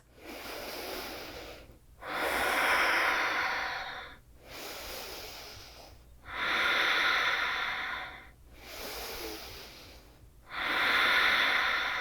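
Deep, slow yoga breaths during a third-trimester prenatal session, five long inhale-exhale cycles in steady rhythm, each a broad airy rush close to the mic with brief quiet gaps between, no talking.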